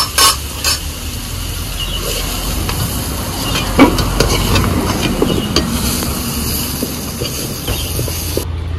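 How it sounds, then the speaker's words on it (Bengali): Cumin and chopped onion fry in hot oil, giving a steady broadband sizzle with occasional scrapes and clinks of a stirring spoon, close and fairly loud, with no voices. "ফোড়নে দিয়ে দিচ্ছি জিরে, জিরের উপরে দিয়ে দেব পেঁয়াজ কুচি"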